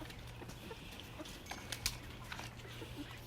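Backyard rooster and hens clucking softly in a coop, faint intermittent calls over a steady low hum, with a brief sharper cluck near the middle.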